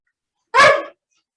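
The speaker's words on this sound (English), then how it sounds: "I think you got distracted by the barking dog in the background" A single short dog bark, loud and sharp, standing alone against silence before and after.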